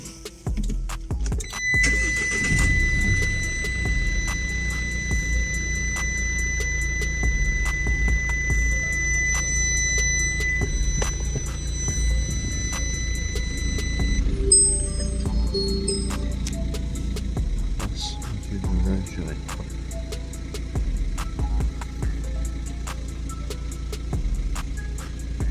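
2019 Renault Clio 5 diesel with an AdBlue system fault starting up, the engine catching after a brief crank and settling into a steady low idle, accompanied by high electronic dashboard chimes and occasional clicks.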